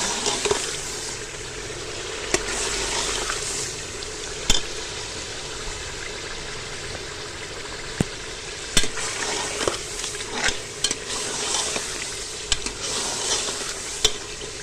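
Meat and spinach being stirred and fried in a pot, a continuous sizzle with scraping stirs and occasional sharp clinks of a utensil against the pot, close and fairly loud with no talk.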